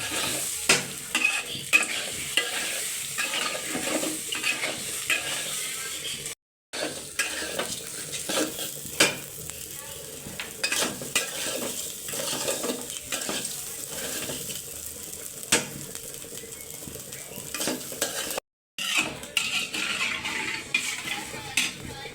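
Pulao and meat cooking side by side in pots on two burners, with continuous bubbling, sizzling and scraping stir strokes running throughout at close range and no talk.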